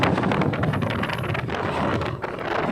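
Tornado-force whirlwind striking houses on Karanrang Island, South Sulawesi, in an amateur recording: loud, continuous roaring wind battering the microphone, with gusty rushing noise and no clear voices.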